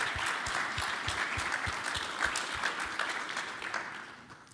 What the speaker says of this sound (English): maybe also a big round of applause